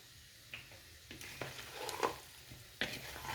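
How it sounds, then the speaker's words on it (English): Mongolian beef stir-fry sizzles faintly in a pan as a tablespoon of dark soy sauce is added. Soft, scattered stirring scrapes and taps sit over a low, steady frying hiss. "I'm adding soy sauce, a tablespoon."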